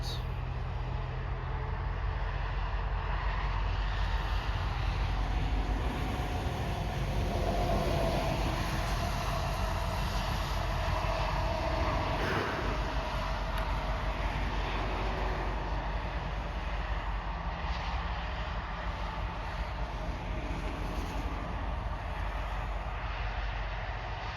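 CN locomotive 5405 switching rail cars in Pembine in cold November weather, a steady low diesel rumble and rolling drone throughout, fairly near, with someone talking over it at times.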